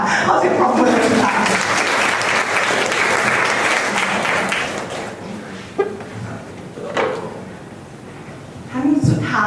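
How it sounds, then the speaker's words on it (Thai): An audience at a Thai university seminar on diplomacy applauds loudly and steadily for several seconds, then the clapping fades into a few scattered claps. Someone speaks briefly near the end. "ขอเสียงปรบมือเลยค่ะ"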